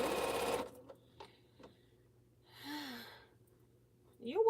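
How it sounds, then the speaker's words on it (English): A sewing machine stitching a T-shirt quilt runs in one short, close burst at the start, then stops; quiet follows with small handling noises and a sigh-like breath from a person. "All right, let's sew this one."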